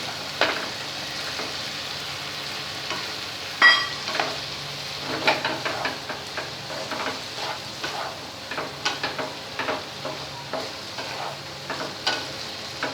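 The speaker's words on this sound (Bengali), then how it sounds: "সামান্য একটু জল দেবো very ভাজা পটল আলুগুলো এর মধ্যে দিয়ে দেব" Fried pointed gourd and potatoes sizzle in a pan with a little water added, a soft steady hiss broken by repeated scraping stirs and light clinks of a utensil against the pan.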